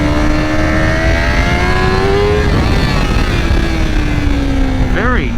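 Loud, close 2025 Honda CBR1000RR-R SP sport motorcycle engine revving with the exhaust valve open, open raspy exhaust, pitch rising and falling through throttle blips, with faint voice-like sounds near the end.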